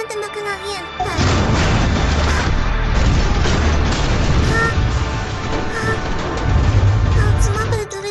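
A heavy boom erupts as an aircraft is hit by alien fire in the film Edge of Tomorrow, rumbling on loudly for several seconds, a dense roar of explosion and engine noise.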